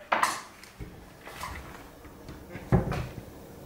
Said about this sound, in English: So if I close that cabinet door now,